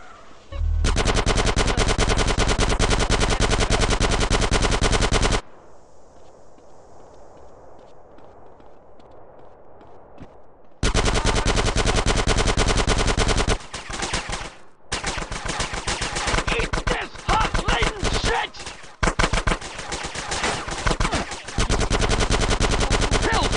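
Loud bursts of rapid automatic and single gunfire from a GTA San Andreas shootout, hammering almost continuously for several seconds, then a quieter gap, then more sustained volleys with short breaks near the end.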